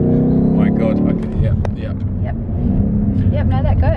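BMW M850i engine roaring loud and close as the car slides sideways through donuts, a strained droning growl with shifting pitch and tyre noise, while people talk over it inside the cabin.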